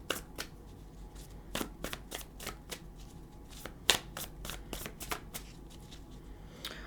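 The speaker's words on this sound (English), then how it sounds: "are very thick cardstock. You can tell how tall they are. And still very hard to shuffle." Repeated riffle shuffles of stiff, thick cardstock tarot cards, brisk bursts of flapping and snapping one after another, close by, with no talking.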